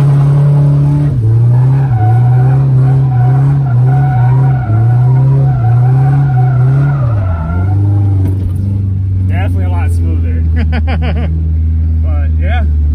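Nissan S14 with a welded differential drifting, its tires squealing loudly in long wavering howls over engine drone, then easing into a steady lower engine hum with brief sharper squeaks, close and loud.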